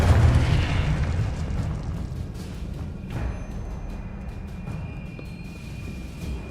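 A spell explosion from a Harry Potter video game rings out as a loud booming burst, followed by a rumbling, fading tail with faint scattered crackles.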